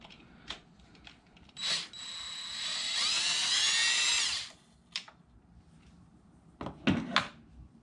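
A power tool spins out 10 mm valve cover bolts on a 2.4L GDI Kia Optima, a loud close whirring burst of about two seconds with short clicks and clanks of handling before and after.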